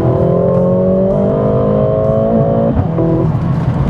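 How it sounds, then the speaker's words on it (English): Mercedes-Benz GLA45 AMG crossover exhaust in sport mode, a loud close engine drone that climbs steadily in pitch under acceleration, breaks off briefly with a shift, then resumes. "put it on sport mode so you can actually hear the exhaust."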